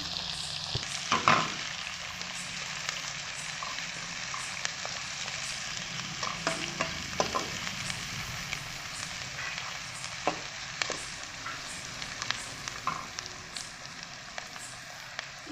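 Onions frying in oil in a pan for tomato gojju, a soft continuous sizzle with occasional clinks and scrapes of a spoon stirring, close and fairly quiet.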